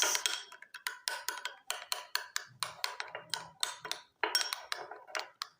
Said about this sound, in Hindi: तो इन चीज़ों को करते हैं मिक्स